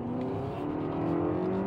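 A Lexus ES250's 2.5-liter engine revs in first gear, holding a steady, loud rising drone with no talking over it.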